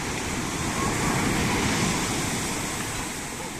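Strong sea waves breaking at Puerto de Santiago, Tenerife, a steady broadband roar of surf with wind, loud and continuous without distinct individual crashes, no talk.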